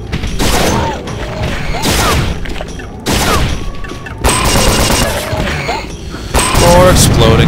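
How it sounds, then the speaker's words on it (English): Explosive barrels blowing up in the first-person shooter Unreal, with several loud booming blasts and crackling gunfire bursts arriving in clusters over pulsing game music, close and dense throughout. "More exploding barrels."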